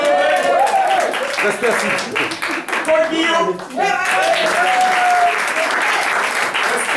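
An audience at a lively aphorism-battle evening claps throughout, dense steady applause under a host's amplified voice announcing names.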